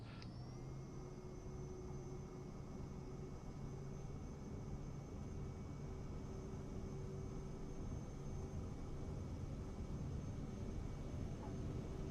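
An aircraft engine at full throttle on takeoff in Microsoft Flight Simulator 2024, a steady loud drone with a high whine held evenly throughout, alone with no talk.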